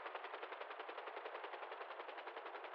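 Steady rapid-fire automatic gunfire from a video game aerial shootout, a thin, evenly pulsing rattle that runs without pause, fairly faint and heard alone.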